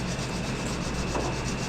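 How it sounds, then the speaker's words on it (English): Sanding pitted, corroded flat scrap steel being shaped into rocker patches for a '57 Chevy gives a steady, close rasping with a faint regular pulse, running unbroken with no voices. "He's sanding."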